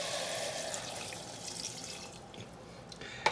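Water pours steadily into a pot with shells, bay leaves, peppercorns and salt to make shrimp stock, giving a close, continuous splashing stream that tapers off near the end with a final clink.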